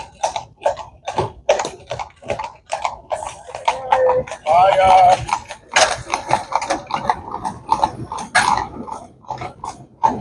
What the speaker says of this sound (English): We've got a nice horse and buggy coming up.